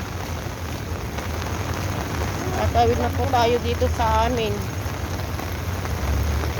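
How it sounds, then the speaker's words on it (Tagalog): Rain falling on and off over a street crossing, with a constant hiss of drops under a woman's speech in Filipino, and nearby traffic faintly underneath. "Kasi pabukso-bukso na po yung ulan."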